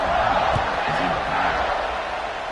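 College football stadium crowd, Alabama versus Ole Miss, waiting for kickoff: a dense, loud, continuous roar of many voices, with an announcer's voice faintly under it.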